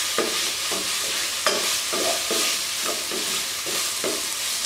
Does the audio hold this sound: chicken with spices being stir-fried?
yes